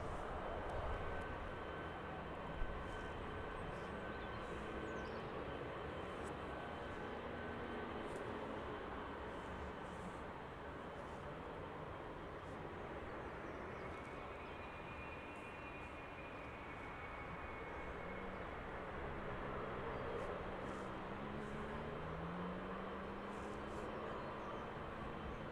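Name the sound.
airplane taking off, bound for Leipzig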